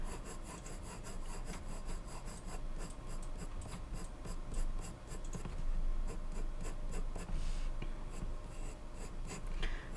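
Pencil strokes scratching on paper while drawing hair, a dense run of quick, repeated, close scratchy strokes in a steady rhythm, with no talk.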